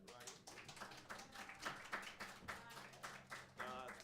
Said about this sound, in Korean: 우리 루하니 축복한다고 박수 한번 쳐줄까요?